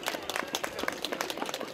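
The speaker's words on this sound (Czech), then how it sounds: "A ještě speciální potlesk pro Marii." A crowd claps at an outdoor Christmas tree lighting in Klášterec, crisp individual hand claps scattered in a quick, irregular patter, moderately close, with no talk.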